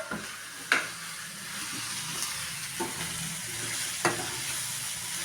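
Ridge gourd sizzles in a pan of frying prawn curry, a steady soft crackle broken by a few sharp clinks of stirring, with no talk.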